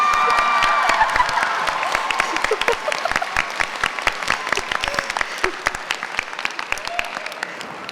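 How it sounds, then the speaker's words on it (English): An audience at an anime convention stage panel breaks into loud applause, dense clapping that gradually thins and fades over several seconds, with scattered cheers and shouts mixed in. "let's give her a huge round of applause"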